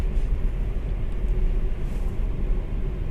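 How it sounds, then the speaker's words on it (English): Steady broadband wind rush and low road rumble inside a 2018 Nissan Micra cabin at speed, a constant hushing roar with no voices. "A lot of wind noise."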